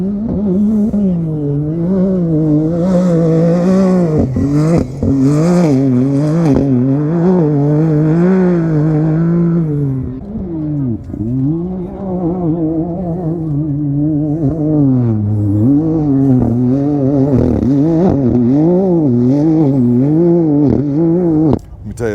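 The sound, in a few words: heavily modified UTV side-by-sides racing past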